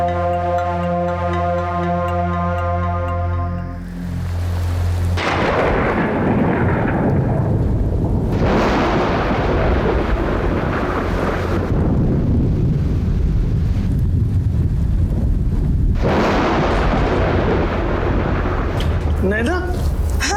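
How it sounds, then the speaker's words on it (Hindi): Heavy rain pours down steadily with deep rumbling thunder, loud and close, after a few seconds of sustained tonal music at the start. "बिजली कड़क रही है"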